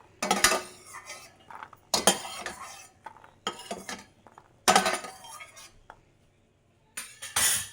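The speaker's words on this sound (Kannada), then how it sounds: "ಮಖಾನ ಸೈಡ್ಗೆ ಇಟ್ಕೊಳ್ಳೋಣ. ಒಂದು ಪ್ಲೇಟ್ ತಗೊಂಡು ಸೈಡ್ಗೆ ಇಟ್ಕೊತಾ ಇದ್ದೀನಿ." Plate and metal utensils clink and clatter in a home kitchen as roasted makhana (lotus seeds) is set aside while making a paneer makhana curry; five separate bursts of handling come close and fairly loud, with quiet pauses between.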